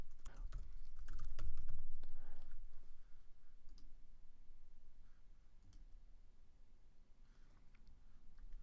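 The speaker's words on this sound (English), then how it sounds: "I'm just going to start typing in init." Computer keyboard typing while coding an iOS itinerary app in Xcode: rapid, uneven key clicks, dense at first and then sparser, over a low steady hum with no talking.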